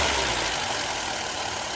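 A Ford Escort engine idles steadily with a throttle valve working, a constant broad mechanical hum and hiss with no breaks or talk.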